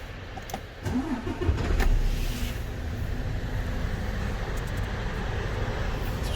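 A diesel car engine cranks briefly and catches, then settles into a steady idle rumble, heard up close with no talking.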